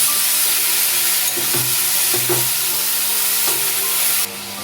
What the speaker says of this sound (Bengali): মশলার সাথে মোচাটা মিশিয়ে নিই